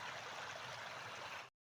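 Rainwater running across a road after heavy rain, a steady broad rushing and trickling flow that stays loud and even with no voices, then cuts off abruptly near the end.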